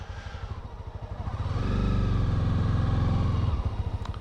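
A Honda CB300R motorcycle pulls away slowly in first gear, its engine note rising into a steady, loud, close mid-pitched drone that holds for a couple of seconds before easing off again.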